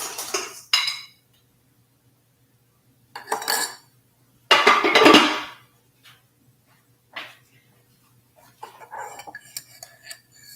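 Cutlery and dishes clink and clatter in a home kitchen as a spoon is fetched, bursts of metallic rattling separated by pauses, one louder jumble in the middle and lighter ticks toward the end.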